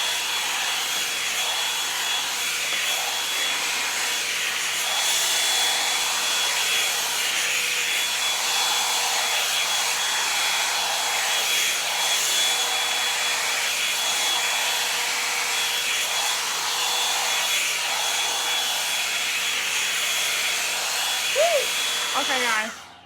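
A handheld hair dryer blows hot air through hair in a continuous close whir with a faint high whine, steady throughout with small shifts as it moves, then cutting off abruptly at the end.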